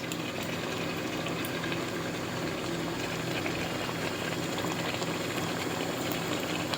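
A pan of prawn biryani masala with tomatoes simmers steadily as curd goes in, giving a continuous dense bubbling and sizzling hiss that runs evenly throughout.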